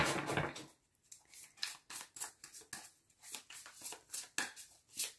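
A tarot card deck being shuffled by hand, close and quiet, with a steady series of soft, crisp riffling and slapping bursts repeating roughly every third of a second.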